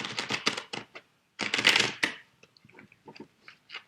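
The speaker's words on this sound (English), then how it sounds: "Let's do a good shuffle." A deck of tarot cards shuffled close by, with two bursts of riffling and slapping followed by a few soft, scattered flicks and taps.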